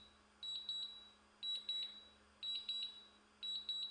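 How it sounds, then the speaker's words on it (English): A drone's remote controller emits paired high electronic beeps, repeating about once per second in a steady pattern over faint background hum. "I apologize for the controller beeping."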